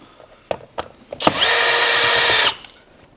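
A power drill whirs steadily for about a second, unscrewing screws on a Skoda Kodiaq 2.0 TSI during an oil change, with a few sharp clicks and knocks before and after it.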